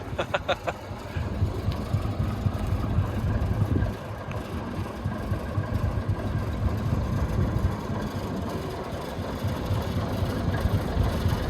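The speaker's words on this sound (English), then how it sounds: "Slight rattle there, that's just the radiator, nothing to worry about." A Leyland Atlantean bus engine idles steadily with a low, heavy diesel rumble and a faint rattle from the radiator, heard close and continuous for several seconds, with a few sharp knocks near the start.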